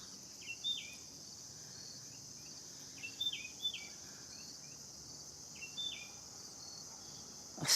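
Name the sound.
birds chirping outdoors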